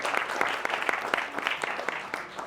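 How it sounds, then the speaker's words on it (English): Audience applause for a person introduced on stage at a gaming event, a steady dense patter of many clapping hands at moderate distance, continuous throughout. "Round of applause for Lisa,"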